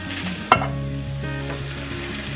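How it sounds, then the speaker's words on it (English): Petite diced tomatoes with their juice drop into a hot pan with a sharp splash, followed by a steady, fairly quiet sizzle and frying hiss. "I'm going to add my petite diced tomatoes,"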